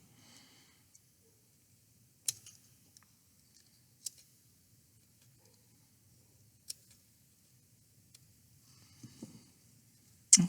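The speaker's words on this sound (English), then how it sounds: "I'm gonna trim that off just a little bit around there where I see that it is doing that." Scissors trim the edge of a faux leather earring, a few sparse crisp snips in a quiet room, separated by long near-silent pauses.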